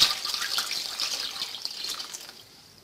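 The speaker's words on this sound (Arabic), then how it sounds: "غادي نضيف لتر من الماء" A liter of water pours into a bowl of juice mix with banana, sugar and orange concentrate, a close, steady splashing stream that tapers off toward the end.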